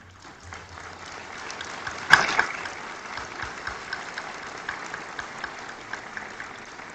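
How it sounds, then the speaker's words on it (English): Audience applause at an organized event, a moderate, steady patter of clapping with one sharp loud knock partway through, continuing evenly to the end. "which you all may underline with a thunderous applause"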